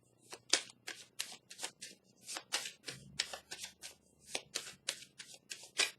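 Tarot cards are handled and drawn close by, giving a run of quick papery flicks and snaps in an uneven rhythm, clear and unaccompanied by talk.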